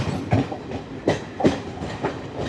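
The Jan Shatabdi Express, with older ICF coaches, runs on the rails, heard from inside as a rhythmic clickety-clack of wheels over rail joints with a steady rumble beneath.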